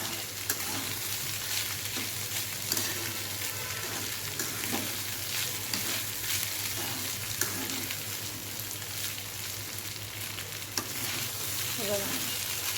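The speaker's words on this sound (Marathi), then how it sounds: "2 मिनटं व्यवस्थित मंद गॅसवरती आपल्याला व्यवस्थित परतून घ्यायचं आहे" Cooked sorghum grains with coriander sauté in a pan over a low flame, giving a steady soft sizzle and the scrape of stirring, close and continuous with no talk.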